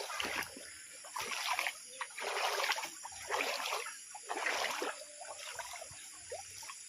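Bursts of splashing, trickling floodwater in a farm field come and go in rough waves, with faint voices murmuring in the background.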